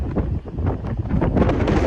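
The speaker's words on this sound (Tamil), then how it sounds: "பட் காற்று செம்மையாக அடிக்கும் பார்த்தீங்களா." Strong wind buffets the microphone at an outdoor bathing spot by the water, a loud, continuous rumbling roar that swells and dips without pause.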